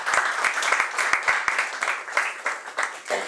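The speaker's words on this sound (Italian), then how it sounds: "facciamo come al solito un applauso di benvenuto" An audience claps in welcome for a speaker at an Italian conversation event: dense, steady applause with sharp individual claps standing out, fairly close and sustained for a few seconds.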